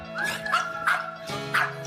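A dog barks and yips several times in quick succession, high-pitched and close, with a whiny edge between the barks.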